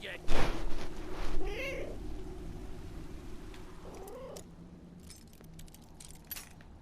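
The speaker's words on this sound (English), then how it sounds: "You guys hear my cat crying?" A close cat lets out a couple of whiny meows over a low purring rumble, with some rustling and jingling nearby.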